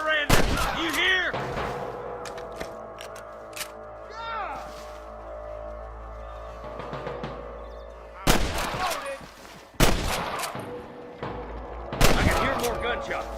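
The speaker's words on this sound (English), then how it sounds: "More gunshots." Several sharp gunshots from Red Dead Redemption ring out in bursts, some close and loud, separated by quieter stretches with faint ringing tones in between.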